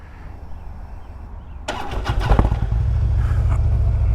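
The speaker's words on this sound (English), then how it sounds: "Back on the bike. Get her fired up." A motorcycle engine cranks and catches with a sudden burst, sputters for a moment, then settles into a loud, steady idle close by.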